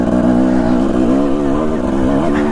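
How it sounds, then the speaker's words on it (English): A motorcycle ridden along roads in Idaho, its exhaust droning loud and steady up close, with the engine note rising and dipping slightly as the revs shift. "find out how to ride this thing without making exhaust noise"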